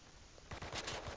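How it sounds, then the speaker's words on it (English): Video game gunfire erupts after a half-second lull, a rapid loud burst of repeated shots in a shooter match, heard alone without talk. "Yeah, I was being shot from the beginning."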